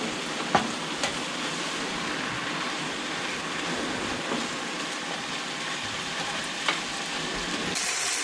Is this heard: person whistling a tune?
no